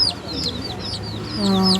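Chicks and chickens cluck and chirp close by in a coop, short rising calls repeating over a faint murmur of background noise.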